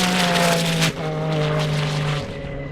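A Porsche Turbo drag racing down an airstrip, its engine a loud, sustained drone with a steady pitch that drops briefly partway through as the car shifts, then carries on strongly before easing near the end.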